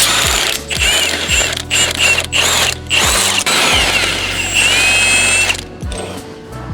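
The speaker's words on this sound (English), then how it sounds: "what we're gonna do is just take the impact to it and go ahead and take that sucker out" An impact wrench hammers out a bolt threaded into the R arm of a Maverick R off-road vehicle, firing in loud, close bursts of rattling with brief pauses and a whining tone between pulls.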